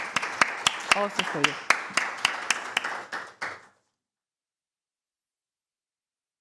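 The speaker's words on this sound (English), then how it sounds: "first a warm applause" Clapping from a forum audience, a series of sharp, spaced claps for about three and a half seconds that fade out, with a voice speaking briefly over them, followed by silence.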